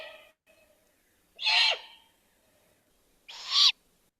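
A juvenile great horned owl gives two loud, raspy begging screeches, each about half a second long and roughly two seconds apart, over near-silence, with a faint call just before the first.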